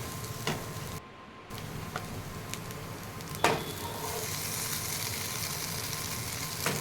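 Maggi noodles with vegetables being stirred in a frying pan give off a steady sizzle and frying hiss, with occasional light scrapes and clicks of the utensil against the pan.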